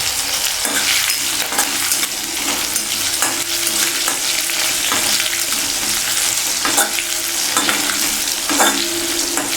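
A tempering of hot oil with asafoetida and curry leaves for dhokla sizzles loudly and steadily, with continuous spattering crackle and occasional sharper pops, and no talking.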